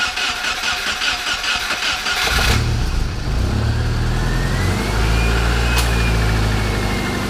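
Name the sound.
2002 Subaru Forester engine starting after head gasket repair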